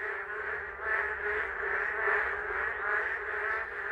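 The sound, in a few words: narrow-mouthed toad (maengkkongi) calling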